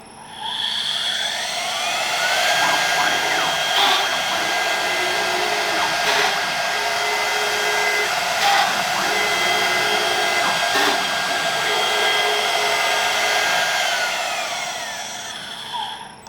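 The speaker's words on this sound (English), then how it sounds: "basically the machine cuts 4 1/4-inch holes" An Avid Pro 4848 CNC machine spindle runs while cutting 4 1/4-inch holes, a loud, steady high whine lasting throughout with brief periodic bumps, no voices.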